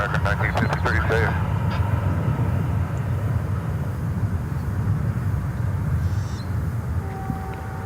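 American Airlines flight 1953, a passenger jet arriving at DFW Airport, gives a steady loud engine roar throughout, with a brief burst of voices near the start.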